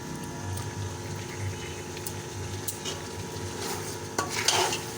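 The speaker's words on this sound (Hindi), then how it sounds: "इसको हम भूनेंगे, इसे हम 4 से 5 मिनट के लिए जो है अच्छे से फ्राई करेंगे" Green chickpeas and beef mince fry in a pan while a spoon stirs them, giving a low sizzle under repeated scraping and light metallic clinks, close up, with a brief louder clatter near the end and no speech.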